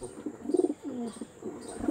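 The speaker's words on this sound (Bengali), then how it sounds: "নেক্সট বন্ধুরা সেম আরেকটা আরশাদ লাইনের পায়রা দেখাচ্ছি" An Arshad line pigeon coos close by in a few soft, throaty rolling phrases, with short pauses between the calls.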